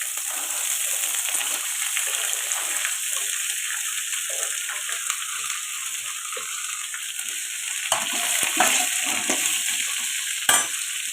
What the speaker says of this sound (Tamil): இப்போ இந்த ஸ்டேஜில் நம்ம இந்த அரிஞ்சு வச்சுருக்கிற கேரட்டும் பீன்ஸையும் கொட்டணும்.